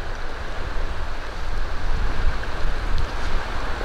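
A river flows beside a lakeside-style campsite on a Lillooet to Beaver Dam route toward Bella Coola, giving a steady, fairly loud broadband rush with a wind-like wash and no voices.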